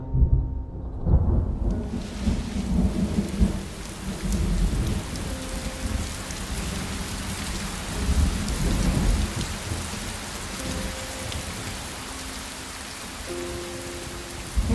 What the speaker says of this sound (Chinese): 又要下雨了